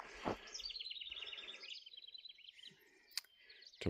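Little birds chirping on a farm at sunset, quick repeated high tweets in a fast trill, faint and fairly close in a quiet setting, with a few sharp clicks.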